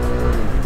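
FKM Venture ADV 180 motorcycle engine being accelerated, a loud, close, buzzing engine drone with dense rough harmonics that hold steady over a brief moment, no talking.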